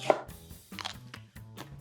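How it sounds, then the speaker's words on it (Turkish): A knife chops through firm cabbage on a board, several crisp thuds in an uneven rhythm, close and fairly quiet. "Kalın kalın doğruyorum sıkı bir lahana."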